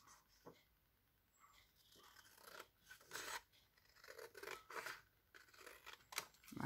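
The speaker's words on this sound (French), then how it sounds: "Donc là, je vais juste venir découper." Scissors cut along a paper template for an autumn-themed pouch, giving quiet, close snips and rasping slides that come in short irregular bursts amid near silence.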